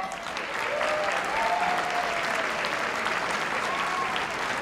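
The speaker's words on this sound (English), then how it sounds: "How about a round of applause for all the recipients so far?" At an Emmy Awards ceremony, a crowd applauds the award recipients, giving a sustained, even wash of clapping with faint voices mixed in.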